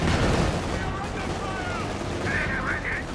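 Battle noise from a World War II tank game, with Panzer IV tank artillery. Dense, continuous rumbling and booming from gunfire and explosions plays under steady commentary, with faint whistling tones near the end.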